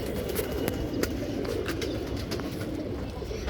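Pigeons cooing in a dense, continuous murmur, many birds at once layered into a steady low rumble with no voices.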